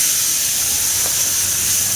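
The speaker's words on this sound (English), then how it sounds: "I just want these things to sear the minute they touch this grate." Thin marinated carne asada cuts sear on a hot mesquite-fired grill grate, a loud, close, steady hiss and sizzle that holds evenly throughout.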